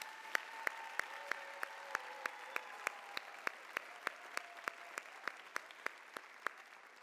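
A crowd claps in a steady rhythm for a 2021 school Homecoming Court, evenly spaced loud beats over a soft wash of applause, with brief tones in the background.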